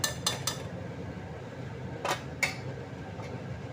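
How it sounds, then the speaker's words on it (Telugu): A spoon stirs turmeric into a curry in a metal pot, producing a few sharp clinks and scrapes against the pot over a quiet hum of a fan; no talking. "పసుపు వేసి ఇలా కలుపుకుంటూ ఉండాలన్నమాట ఫ్రెండ్స్"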